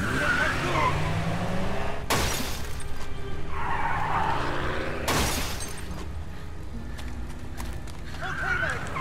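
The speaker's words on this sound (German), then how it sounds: "Jetzt wir fahren das Auto weg." Tires skid and screech as a car speeds off during a chase in the video game Beyond: Two Souls, with two sharp crashing bursts over steady engine and game noise while a voice talks.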